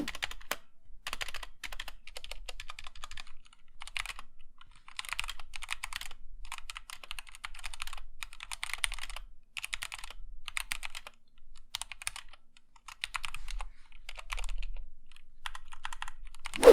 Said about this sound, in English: overall the keyboard is a bit loud compared to others, but the typing experience is still near the top